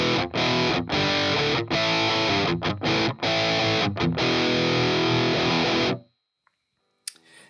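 Heavily distorted electric guitar chords played loud with short breaks, then cut off, leaving a faint hum and a small click.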